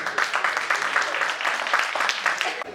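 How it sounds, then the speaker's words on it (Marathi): A gathering at a school reunion applauds a teacher, a dense steady patter of many hands clapping together at moderate distance, continuous for a few seconds. "मॅडम जरा नाईक मॅडम साठी जोरदार टाळ्या"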